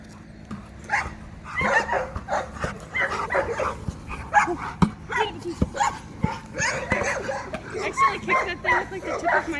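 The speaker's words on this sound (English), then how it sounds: "But I guess we have our own Sir Barks-a-Lots in the kennels." Several dogs bark and yip over one another in echoing kennels, with loud, irregular bursts of barking and occasional whimpers.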